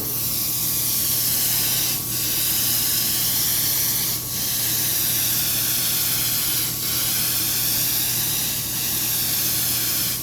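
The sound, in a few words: airbrush spraying paint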